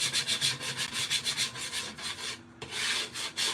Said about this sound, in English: I'm just going to give it a quick sanding so it's all even and smooth.